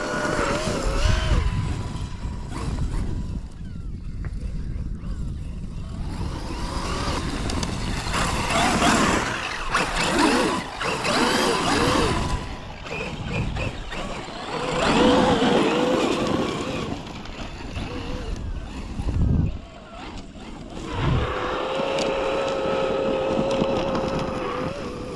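A Traxxas XRT Ultimate RC car drives on a beach, its electric motor whining and surging as it speeds up and slows down over about twenty-five seconds, with wind and surf noise around it.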